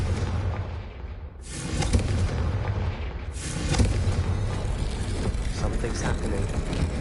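Confringo fire blast spell cast in Hogwarts Legacy, loud and close: a dense roaring burst, then a second heavy whoosh-boom around three seconds in, over a continuous low rumble of game sound.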